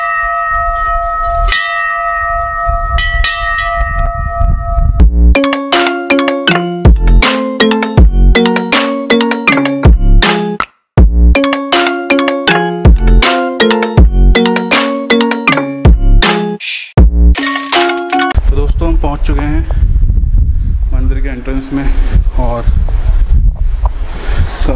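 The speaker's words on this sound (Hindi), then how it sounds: "और ये देखिए घंटी," Temple bell at Sidhbali Mandir in Kotdwar, Uttarakhand, struck repeatedly in loud, rapid clangs with ringing overtones, heard outdoors over steady wind noise, briefly pausing and then trailing off into wind.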